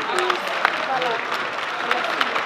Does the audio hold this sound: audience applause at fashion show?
yes